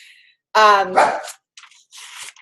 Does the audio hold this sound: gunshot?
no